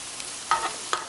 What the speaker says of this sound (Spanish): Le agrego el ghee.